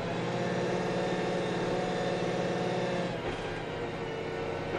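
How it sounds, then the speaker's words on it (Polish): Deutz-Fahr 6165 Agrotron RCshift tractor engine heard from inside the cab, a steady mid-low drone that holds evenly and briefly dips near the end, moderately quiet with no talk. "Po wciśnięciu pedału przyspieszenia ciągnik nabiera prędkości."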